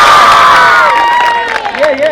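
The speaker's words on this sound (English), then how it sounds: "Big round of applause for all the winners, boys and girls." A school crowd cheers and claps for marathon winners, a loud roar of voices and whoops that fades briefly, then swells again.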